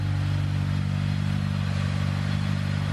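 A Honda S2000 with a titanium exhaust sits on fast idle, giving a steady, loud, throbbing low rumble recorded close to the tailpipe with no change in revs.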